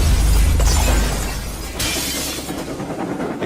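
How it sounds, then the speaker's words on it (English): A blast shockwave shatters the glass in railway coaches: a loud, close rumbling crash that bursts at once and then fades into a lower, steady roar. "Caused the glass in the coaches to shatter and rock them side to side."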